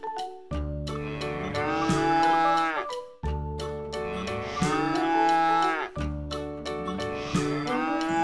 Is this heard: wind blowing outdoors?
no